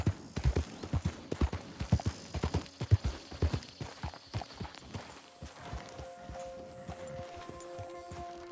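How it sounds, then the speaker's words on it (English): A horse walks on the ground in Red Dead Redemption 2, its hooves clip-clopping in a steady rhythm that starts fairly close and then softens, with faint ambient tones later on. "Good looking horse there."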